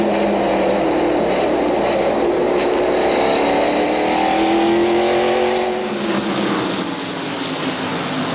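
NASCAR stock cars racing, heard from an in-car roof camera: a loud, unbroken engine roar with rising and falling whine as the field runs close, filling the whole stretch without any voices.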